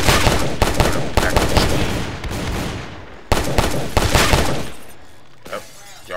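Gunfire in the Roblox game Tha Bronx 2: loud, dense bursts of rapid shots in two clusters, the first running several seconds, the second brief and fading into quieter game noise.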